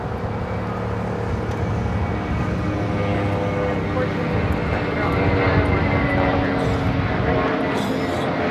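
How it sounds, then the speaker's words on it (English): An American Airlines A321 bound for Dallas Fort Worth takes off at LAX, with a steady jet engine roar that swells slightly toward the end, moderately loud and fairly distant. "This is American Airlines 3222 taking off to Dallas Fort Worth on the A321"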